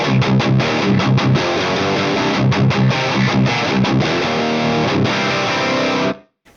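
Marshall Vintage Modern guitar amp driven into a chunky, distorted rock tone, with loud rhythmic chords and chugging palm-muted hits playing steadily before cutting off abruptly near the end.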